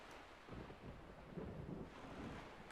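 Ocean water in The Legend of Zelda: The Wind Waker, a steady broad rushing roar like surf and wind that swells slightly midway, with no voices.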